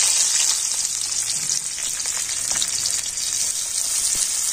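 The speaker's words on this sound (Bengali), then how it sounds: "আর তেলের মধ্যে আমি দিয়ে দেবো পেঁয়াজ।" Onion frying in mustard oil in a wok makes a loud, continuous sizzle with fine crackling close by, steady from start to finish.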